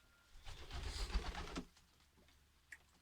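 Pigeons inside a pigeon loft on a rainy day, giving a soft burst of cooing and fluttering activity that swells in the first half and then fades to quiet room tone, with one brief sharp sound near the end.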